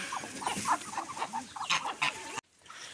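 Turkeys, geese and ducks clucking and squawking in short, overlapping bursts, a scrappy barnyard scuffle of fowl that cuts off abruptly near the end.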